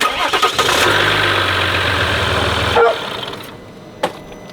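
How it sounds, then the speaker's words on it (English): A Jeep engine just after an oil change turns over with a whirring crank, then runs loud and close before cutting off, leaving a quieter background with a brief thump. "So now what you do is go ahead and start it."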